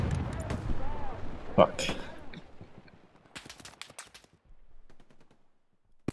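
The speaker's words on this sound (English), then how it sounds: "Guys in the house shooting at us" Several sharp gunshot bursts in a Hell Let Loose battle, enemies firing from inside a house, with a loud crack early on and scattered distant shots later, heard under tense speech.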